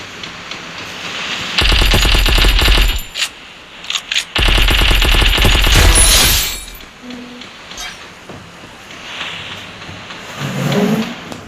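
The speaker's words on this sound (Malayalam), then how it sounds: "നമ്മൾ ഒരുത്തനെ വെടിവെച്ചിട്ടുണ്ട്" Loud gunfire in an online shooter video game: two long sustained bursts of rapid automatic fire with a few sharp single shots between them, followed by quieter game ambience and a brief engine-like rumble near the end.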